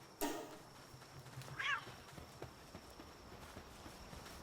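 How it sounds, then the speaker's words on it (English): Cat meowing in Palworld, a short clear meow near the middle after a brief sharp sound at the start, with faint footsteps and quiet ambience around it. "We have a kitty."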